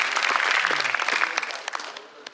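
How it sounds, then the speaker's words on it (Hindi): At a Haryana film festival, an audience welcomes a film director with loud, dense applause that gradually thins out into scattered claps. "जोरदार तालियों से चाहूंगा कि आप सभी इनका स्वागत कीजिए"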